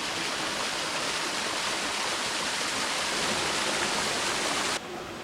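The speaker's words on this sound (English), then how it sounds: "So yeah, nice little waterfall." A small waterfall in the Cranberry Wilderness rushes in a steady, loud broadband roar close by, continuous throughout with no voices, dropping slightly in level at the very end.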